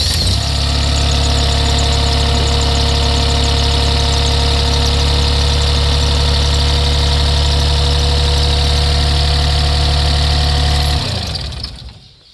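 The diesel engine of a Kobelco 30 mini excavator idles loud and close with a steady, even drone, then shuts down and winds away to silence at the end.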